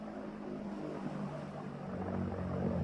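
A V-1 flying bomb's pulse-jet engine drones in a rough, buzzing rhythm like an old motorbike with a broken exhaust, swelling slightly louder as it approaches over the full stretch without any voices.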